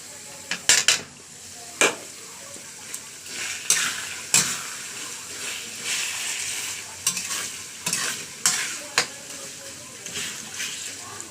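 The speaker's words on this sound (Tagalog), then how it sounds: "Kailangan lang natin siyang haluin ng haluin para hindi siya masunog yung ilalim" Chicken pastil stirred continuously in a sizzling pan, a spoon scraping and knocking the metal in irregular strokes over a constant frying hiss.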